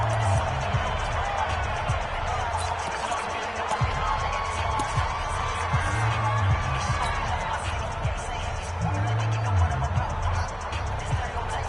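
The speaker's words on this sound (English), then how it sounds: "this is where the Arrowhead crowd can make it very tough" A stadium crowd at Arrowhead roars at a football video game, a dense, steady wash of cheering throughout, with a commentator talking over it.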